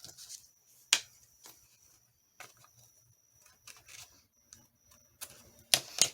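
Paper being trimmed for a handmade shaker tag, heard as a scatter of short, crisp snips and clicks at uneven intervals with quiet pauses between them, close up and with no talking.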